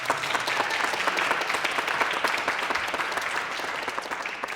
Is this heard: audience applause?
yes